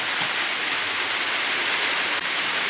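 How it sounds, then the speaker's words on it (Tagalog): Steady, dense rain hiss fills the whole stretch, a constant wash of noise with no voices. "medyo maingay. Umuulan kasi dito sa amin."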